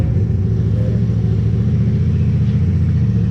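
A Honda Ruckus scooter fitted with a GY6 engine runs close by, a loud, steady, low rumble that holds even throughout with no talking.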